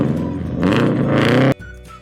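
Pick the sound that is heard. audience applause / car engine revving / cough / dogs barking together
car engine revving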